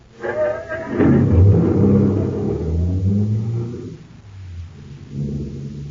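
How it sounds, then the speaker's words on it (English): A car engine turns over and revs up loudly, then settles into a rumbling idle with a second rise in revs near the end, close by, with no other sounds over it. "Start the car, Blake."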